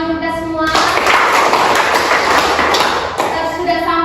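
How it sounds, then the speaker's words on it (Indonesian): Classroom applause during a microteaching session in an economics lesson, a short burst of clapping that begins after a moment of tonal hum, runs dense for about two and a half seconds, then fades as the hum returns. "tepuk tangan untuk kita semua"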